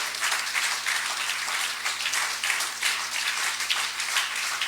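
A church congregation at a prayer service applauds steadily, many hands clapping in a dense, continuous patter with no voices standing out.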